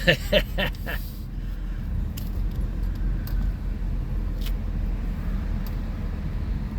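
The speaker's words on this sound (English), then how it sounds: "it's appropriate to end this video with a logging truck driving by" A logging truck passes on a road in Coos Bay, a steady low engine and tire rumble that holds throughout, preceded by a few brief metallic jingles at the start.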